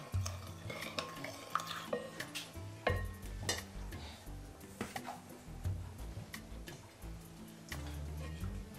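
Bread dough of flour, warm water and salt being stirred in a bowl, with repeated scraping and tapping knocks in an irregular rhythm, close and fairly quiet.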